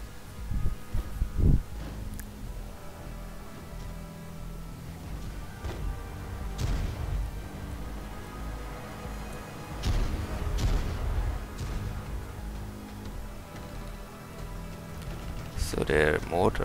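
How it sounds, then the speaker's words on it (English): Mortars firing in Total War: 1942 during a winter siege battle, dull booms and scattered gunfire at middle distance amid rumbling battle ambience, with someone talking over much of it. "So their mortars are still firing, they aren't entirely defeated yet."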